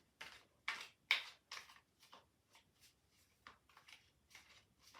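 Tarot cards being shuffled up close in a series of quick papery riffles and slaps, about ten short bursts, loud at first and then softer.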